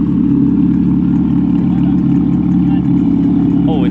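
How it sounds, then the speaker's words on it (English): A loud, rumbling exhaust on a stanced custom Japanese car idling steadily up close at a car show in Japan, a deep throbbing drone that holds constant throughout. "And of course the crazy loud exhaust."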